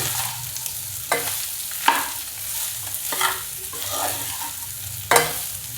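Lemon rice ingredients being stir-fried on a low flame, with cooked, cooled rice tossed in a pan: a steady soft sizzle broken by several sharp spatula scrapes and clinks, close by, with no talking.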